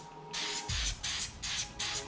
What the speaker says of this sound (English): use by degreaser and spray the cassette